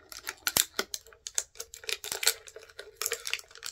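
Hard plastic packaging being pried and torn open up close, a rapid series of sharp cracks, snaps and crinkles in uneven bursts, with no voices.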